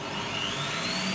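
A Bosch PBD40 drill press with soft start and speed governor runs after being switched on, giving a steady, loud motor whir with a faintly rising whine throughout.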